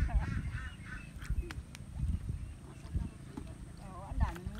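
Ducks quack and honk at a fish farm in Bohol, repeated short calls scattered over a busy, loud background with people talking nearby.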